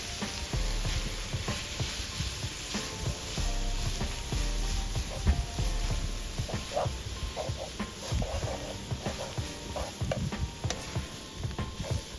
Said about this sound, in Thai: ลวกเส้นมาม่าแล้วนำลงไปผัดคลุกเคล้าให้เข้ากันครับ